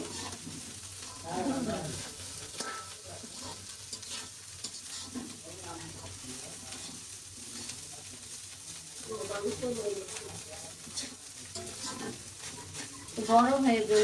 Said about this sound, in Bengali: ভাত ভাজার ব্যবস্থা করছি